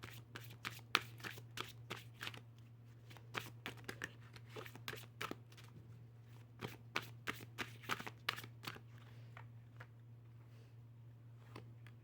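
Tarot cards are shuffled close up with crisp, repeated riffles and rustles over a low steady hum.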